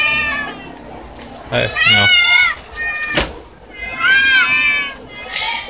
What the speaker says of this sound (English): these cats here